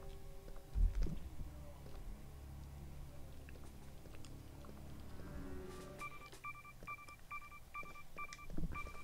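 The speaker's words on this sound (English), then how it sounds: "Someone answer that fucking phone" A telephone rings in an office in Resident Evil 3: Nemesis, with short repeated electronic tone bursts in the last three seconds, faint over low game ambience and rumbling.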